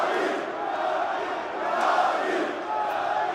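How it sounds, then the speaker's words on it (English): Large esports arena crowd roaring steadily at a CS:GO match, Heroic vs NAVI on Ancient at PGL Major Antwerp 2022, a dense continuous wash of cheering that swells louder around the middle. "the crowd starting to get louder and louder here, knowing that NAVI could be taking us to that 3rd"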